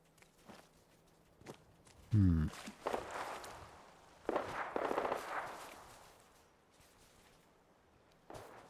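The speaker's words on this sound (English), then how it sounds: "we've got a lot of gunfire this way" A few sharp bursts of video game gunfire from Fallout 4 ring out at a distance, separated by quiet stretches with faint scuffing steps.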